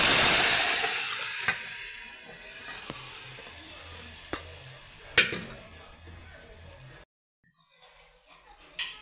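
Onions, curry leaves and dried chilies fry in a pan with a loud, steady sizzle that slowly fades, broken by sharp utensil taps, then drops out before faint clatter resumes.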